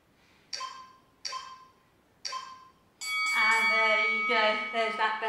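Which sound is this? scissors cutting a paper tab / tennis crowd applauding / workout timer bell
workout timer bell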